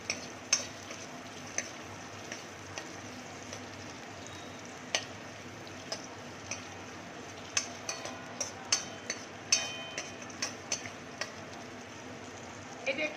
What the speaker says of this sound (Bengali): এখনই ভাজা হোক